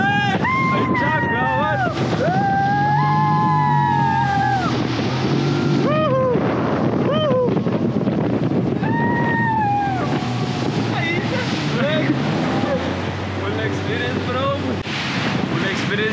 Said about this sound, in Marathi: आपण बसलेलो आहे आता स्पीड बोट मध्ये आणि एकदम फुल एन्जॉय